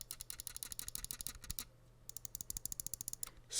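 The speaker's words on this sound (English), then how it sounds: "Side buttons." Worn, scuffed side buttons on a Hati S computer mouse pressed in fast bursts, producing dozens of rapid, bright, close clicking taps with a brief pause in the middle and no voices.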